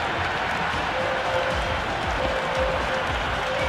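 A cricket crowd in the Cricket 26 video game, noisy at the ground during a match: a dense, steady roar of cheering and applause carrying on without a break.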